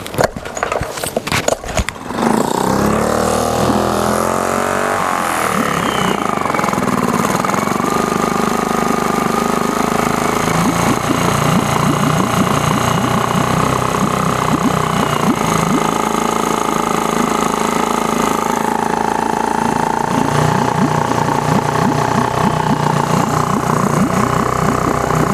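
A Yamaha 4-stroke 4hp outboard motor starts after a few clattering pulls, then settles into a steady, loud, buzzing run that continues unbroken with no talking.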